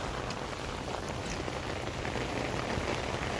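Heavy rain falls outdoors over a park, a steady dense hiss of drops pattering on surfaces, constant and even throughout with no voices.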